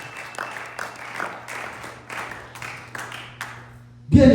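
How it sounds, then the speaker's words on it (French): A church congregation claps in a rhythmic, pulsing beat, about eight swells of applause at a moderate distance, before a loud voice breaks in at the end. "Est-ce qu'on peut acclamer pour le roi des rois?"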